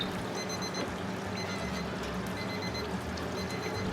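Kitchen cooking timer on a restaurant fryer sounds a high electronic beep in four short bursts about once a second, fairly faint over a steady background hum with no talk.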